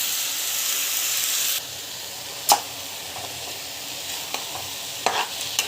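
Chopped tomatoes sautéing in a pan for tomato thokku, with a steady sizzle that drops to a quieter hiss partway through, broken by a few sharp utensil clinks and scrapes.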